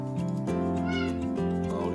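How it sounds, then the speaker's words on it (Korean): Several cats meowing indoors, one drawn-out meow after another with bored, wavering tones that carry on continuously, moderately loud and close. "고양이들이 지금 심심한가 봐요"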